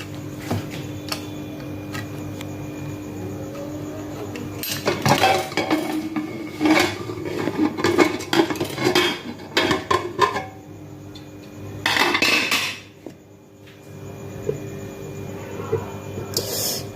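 A pudding pot is uncovered after cooking, with metallic lid clatter, clinks and scrapes of utensils in bursts between quieter stretches, close to the listener.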